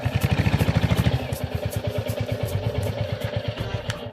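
A motorcycle engine idles at a gate with a steady, rapid chugging beat. It is loud and thumping at first, then settles into a slightly softer, even putter.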